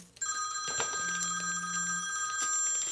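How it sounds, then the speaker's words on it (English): An incoming-call telephone ring sounds steadily in a workshop, a clear repeating electronic bell tone alone, with a few faint clicks underneath. "Let me take that phone call."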